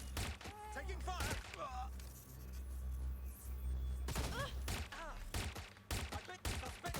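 Bursts of gunfire in the video game Watch Dogs: Legion, rapid shots and thuds coming in clusters at the start and again later, loud and close, with a low rumble beneath and voices calling out between them.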